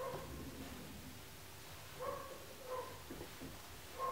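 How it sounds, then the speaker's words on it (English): A pet dog barks indoors at workers in the house, a few short, faint yelps spaced about a second apart, muffled and distant over a low room hum. "my dog is going a little bit crazy, so if you can hear him, I apologise"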